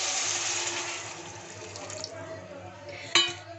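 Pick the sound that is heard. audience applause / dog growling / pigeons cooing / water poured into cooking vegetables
water poured into cooking vegetables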